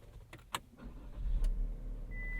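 A 2023 GMC Terrain AT4 starting from inside the cabin, a few short clicks and a brief whir, then the engine catches and settles into a low steady hum, close by with no talk.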